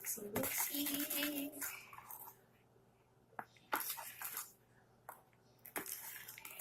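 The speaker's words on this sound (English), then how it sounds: "Mixing." Homemade no-glue slime being mixed with contact solution, wet squishing and scraping against a container in uneven bursts with quiet gaps between, close by, with a voice speaking briefly near the start.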